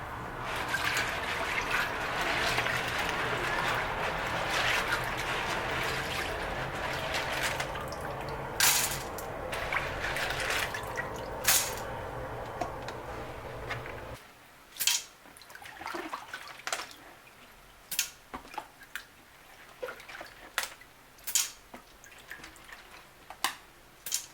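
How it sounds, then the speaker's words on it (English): White beans being washed in water in a pot, a steady rush of running water that stops midway, followed by scattered splashes, drips and sloshing of water and beans, close up. "the next thing will be to wash our beans and put in a pot"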